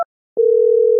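A landline telephone dial tone hums steadily while a call is being placed. A brief click comes first, then a short silence, then an unbroken, loud, close tone.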